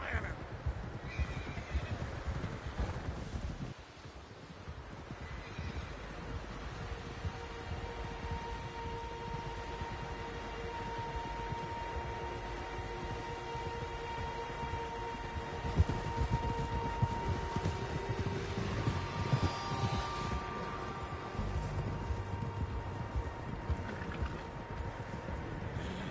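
Horses neigh and whinny repeatedly among steady hoof clip-clops and outdoor ambience in the Red Dead Redemption 2 video game, fairly close and continuous, with occasional voices.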